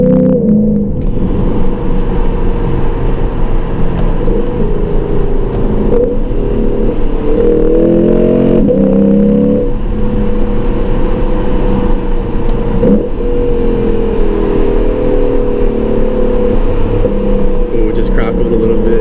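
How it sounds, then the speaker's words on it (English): Lexus RC F engine held at part throttle, then revving sharply through downshifts with the window down; a loud, continuous engine note rises and falls in short bursts near the middle, with faint crackle-like pops. "I'm gonna downshift with the window down here."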